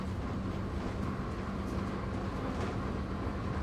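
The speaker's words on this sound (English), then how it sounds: "I got on a train today and just took off." Steady low rumble and rattle of a moving train carriage in Italy, a continuous even drone with faint clatter, no voices.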